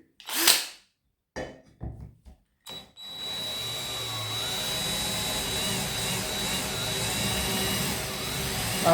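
A Parkside PSBSA 20-Li C3 20V cordless hammer drill with a metal bit gives a few short bursts and knocks, then whirs in a continuous loud, steady whine as it drills, with no talk.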